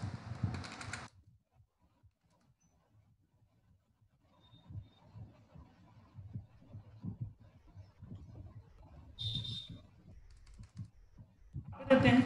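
Typing code on a computer keyboard while someone talks, with a fast clatter of keystrokes at the start and end and scattered key taps under the speech in between.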